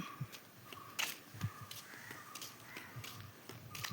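Several crows cawing intermittently at a moderate distance over a faint outdoor background, with no talking.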